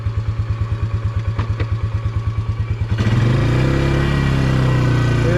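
A Polaris UTV engine chugs in a steady rhythmic idle, then surges into a loud sustained rev as it is put in four-wheel drive to pull out of a mud hole.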